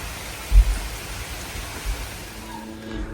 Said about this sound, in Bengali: দেখেন কি বৃষ্টি হইতেছে।